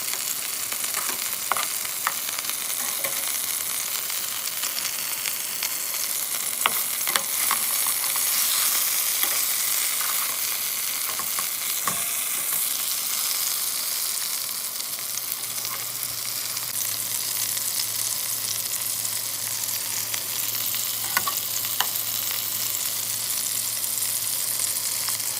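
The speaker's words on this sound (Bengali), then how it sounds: "এই মাছগুলো ভাজি করব।" Turmeric-, chilli- and salt-coated fish fry in a pan with a steady hiss of bubbling oil, broken by occasional sharp crackles and pops, running unbroken with no voices.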